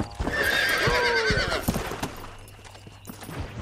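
In the video game Red Dead Redemption, a horse whinnies loudly while hooves clop in an uneven rhythm, the clip-clop continuing after the neigh fades.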